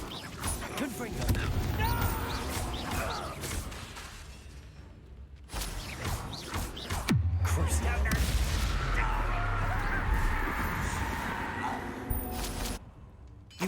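Combat in Hogwarts Legacy, where the Confringo explosive spell is cast: swishing whooshes and heavy booming blasts, with a deep rumbling impact in the middle, interspersed with brief voices and short quiet gaps.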